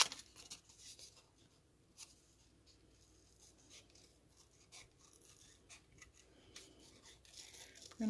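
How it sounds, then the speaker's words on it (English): Faint, close snipping and scraping of scissors working through cardstock, in short irregular cuts with soft rustling between them. "I'm going to cut this out because I want to overlap it a little bit."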